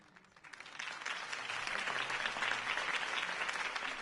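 Crowd applause from a political campaign rally for Harvey Dent in Telltale's Batman game, swelling in from quiet to a sustained, fairly distant roar of clapping.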